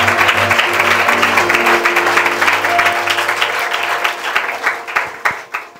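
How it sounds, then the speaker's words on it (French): A church congregation breaks into sustained, dense clapping that holds steady for several seconds, then thins into scattered final claps. "pouvons-nous acclamer le Seigneur"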